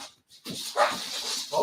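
A pet dog whimpers and whines softly indoors in a few short, high, faint cries.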